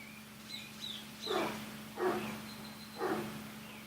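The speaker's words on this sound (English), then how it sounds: "I think there's a dog in my front yard." A dog in a front yard gives three muffled barks or yelps roughly a second apart, faint and distant over a steady low hum.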